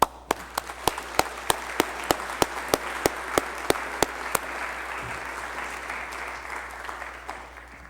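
Lecture hall audience applauding to welcome computer scientist Richard M. Karp to the stage, a full wash of clapping with a few loud near claps standing out in a regular beat before fading.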